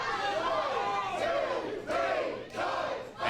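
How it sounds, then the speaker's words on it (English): A wrestling crowd at a Canadian independent show chants a count in unison, several loud rhythmic shouted bursts swelling over a constant arena din. "And he's listening to the crowd, and they're counting along with him."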